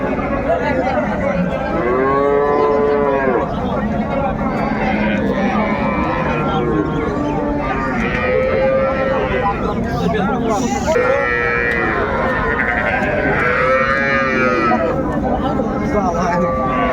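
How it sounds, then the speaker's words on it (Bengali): Several dairy cows and calves moo loudly nearby at a cattle market, long drawn-out calls rising and falling over the busy hubbub of a crowd talking. "চমৎকার গাভী বাছুর আমরা দেখছিলাম"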